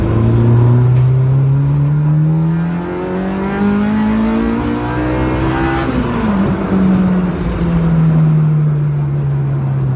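A Honda Civic EG's engine runs steadily and loudly up close, its pitch rising and falling as it accelerates and shifts through gears.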